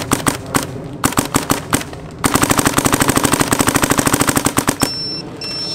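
A Dye DSR paintball marker fitted with a 3D-printed trigger fires on semi-auto, first in loud, spaced single shots and bursts, then in a long rapid string of sharp cracks.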